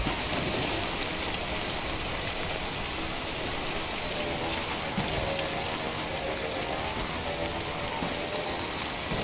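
Steady, loud downpour of timefall rain in the video game Death Stranding, a continuous hiss of drops hitting surfaces that holds evenly throughout with no voices.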